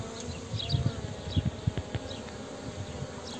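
Honeybees buzzing around a hive that is preparing to swarm, a steady close hum with small swells and faint higher whines, no talk.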